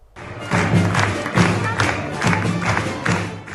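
An audience applauds at a Carnegie Hall concert in New York, with dense clapping and crowd noise mixed with rhythmic thumps, moderately loud throughout.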